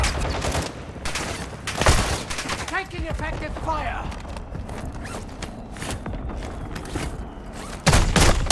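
Gunfire in the video game Call of Duty DMZ: sharp bursts of shots and rattling mechanical clicks, fairly close, with scattered in-game sounds between the volleys.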